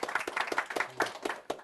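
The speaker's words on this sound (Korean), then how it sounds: "박수 부탁드리겠습니다" A studio audience claps to welcome a venture capital CEO guest on a talk show, a short burst of rhythmic hand claps with a cheer over it, moderately loud and close.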